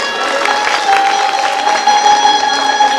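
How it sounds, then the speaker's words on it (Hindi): An audience at a Bhagwat Katha gathering claps loudly to welcome a guest. Sustained crowd applause blends with steady tonal music underneath, with no clear speech. "इनके लिए जोरदार तालियों से स्वागत करें"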